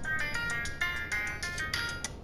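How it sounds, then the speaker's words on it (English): A phone ringtone from Resident Evil 4 chimes in a repeating electronic pattern of bright, pulsing tones, fairly loud and close, cycling several times with no talk over it. "I'm getting a phone call."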